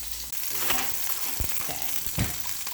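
Chicken sizzles steadily in oil in a pan for a sun-dried tomato orzo dish, a constant hissing fry with a couple of brief thumps and clatters as pieces are moved.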